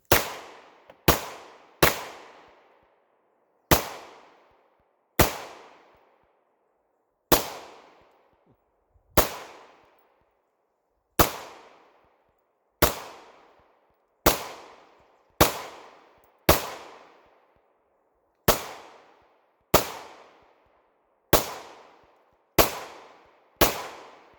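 A pistol fires single sharp gunshots outdoors during Saturday morning target shooting, about fifteen loud cracks spaced irregularly a second or two apart, each ringing out and decaying before the next.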